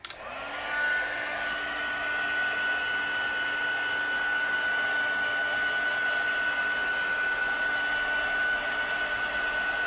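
A heat gun blows steadily while drying a craft surface before a transfer goes on top. It sounds like a loud, continuous hot-air whoosh with a faint high whine, and it starts within the first second and holds evenly to the end.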